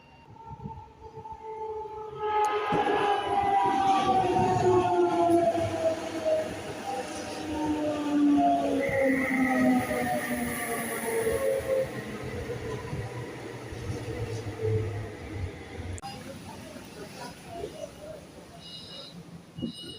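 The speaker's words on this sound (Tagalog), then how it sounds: "Ibig sabihin, malapit na dumating yung train." A railway crossing bell rings in Switzerland while a train approaches, with a loud rumbling rush and tonal wheel and bell sounds that build and then ease off, ending in quieter station ambience.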